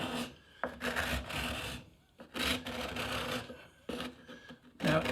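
A steel card scraper drags across a wooden surface in long, rasping strokes, cutting shavings down toward bare wood; the strokes come close and steady with short pauses between passes.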